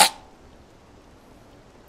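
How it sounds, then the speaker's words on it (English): One short, sharp human sneeze bursts out loudly at the very start, then fades into quiet room tone. "I sneezed."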